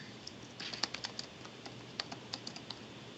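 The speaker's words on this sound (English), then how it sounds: "I hear keys tapping" Someone types quickly on a computer keyboard, giving a close, irregular burst of light key taps for a few seconds with no talking.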